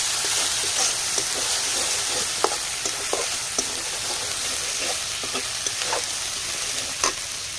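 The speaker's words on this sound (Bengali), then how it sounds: "আদা রসুন পেস্টটা একটু ভেজে নেব।" Ginger garlic paste sizzles steadily in hot oil in a pan over fried chopped onions, with scattered crackles and pops and occasional stirring clicks, close and alone without talk.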